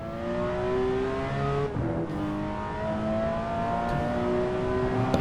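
Race car engine in a racing simulator game, a loud sustained high-pitched roar with harmonic whine, rising in pitch as it accelerates, briefly dipping around a gear change before climbing again, with no voices over it.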